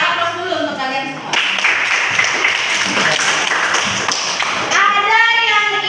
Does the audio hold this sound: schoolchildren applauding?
yes